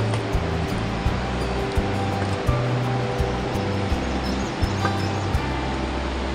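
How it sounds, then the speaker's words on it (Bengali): A mountain waterfall on the Pindari Glacier trek trail gives a steady, dense roar of rushing water, loud and continuous, with no voices. "এই যেখানে একটা ঝর্ণা দেখা যাচ্ছে, আরও আছে ঝর্ণা, এদিকেও একটা আওয়াজ পাওয়া যাচ্ছে।"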